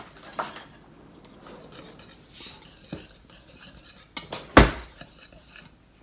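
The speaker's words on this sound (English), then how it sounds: "We're going to add in the cinnamon, baking soda, salt, and nutmeg. And we're going to whisk that all together." A whisk scrapes and clinks in a bowl of flour, cinnamon, baking soda, salt and nutmeg, giving soft irregular rubbing strokes and one sharp metallic knock near the end, close by and without speech.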